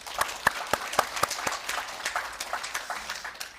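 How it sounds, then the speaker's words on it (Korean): Seminar audience at a conference hall giving thanks with scattered applause, a handful of distinct sharp claps early that thin into a softer, looser patter, fairly close and without talk. "우리 박기훈 이사님께 감사의 박수 부탁을 드립니다"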